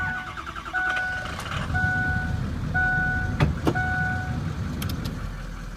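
A 2003 Ford F250 diesel 4x4 idles steadily with a low, continuous rumble heard up close under the hood, while faint tonal beeps and a couple of sharp clicks sit on top of the engine drone.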